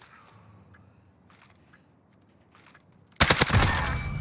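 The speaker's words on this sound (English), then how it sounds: "Good fucking shots, Ryan." Video game gunfire in a bomb-defusal round bursts in loud and dense after a quiet stretch of faint clicks and distant game sounds, continuing as a sustained rapid volley to the end.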